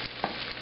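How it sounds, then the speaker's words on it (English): Tortilla laid onto a hot pan for fish tacos, a brief steady sizzle with a small soft tap near the start, close and quiet. "Tortilla application to the hot pan."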